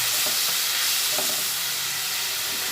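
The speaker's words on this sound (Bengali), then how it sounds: "তারপরে একসঙ্গে সব মশলাগুলো ভেজে নিচ্ছি" Pointed gourd and spices fry in a hot pan with a steady, dense sizzle. Soft stirring scrapes come through now and then, and nobody speaks.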